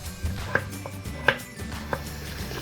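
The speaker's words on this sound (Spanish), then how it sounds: "Cortaremos las patatas en daditos" A knife dices potatoes for a Spanish tortilla, with about four crisp chops hitting a cutting board at an uneven pace, close and clear and without talk.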